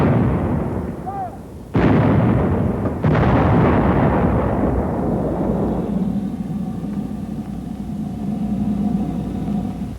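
A howitzer fires high explosive anti-tank shells: two heavy, loud booms a second apart, each rolling into a long rumbling decay, with a short whistle just before the first.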